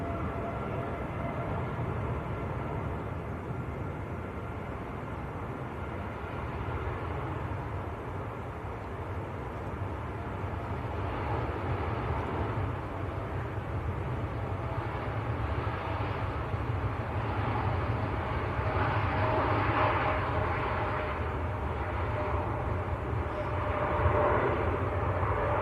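An Etihad airliner bound for Abu Dhabi departs Manchester Airport, a steady broadband engine roar that holds for the whole stretch and swells slightly louder toward the end, without any talk over it.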